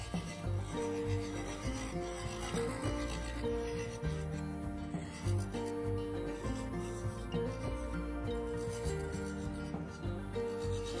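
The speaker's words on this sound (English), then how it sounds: "this time using a 3 8 bowl gouge" A 3/8-inch bowl gouge refines the rim of a segmented, patterned wooden bowl on a lathe, giving a continuous close scraping rasp over the steady hum of the spinning machine.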